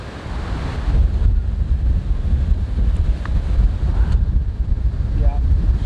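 Steady wind roars across an open fishing spot at the water's edge, a constant broadband rush with gusty buffeting on the microphone throughout, loud and close, with no clear voices.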